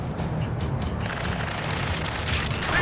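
Sustained loud automatic gunfire in Ace Combat 7 near a space elevator, a continuous rattling fusillade with booming low rumble throughout and no pause.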